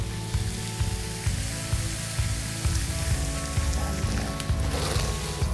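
Bread frying in a pan over an open campfire during an outdoor breakfast cook-off, a steady close sizzle with crackling spatter running throughout, no talk over it.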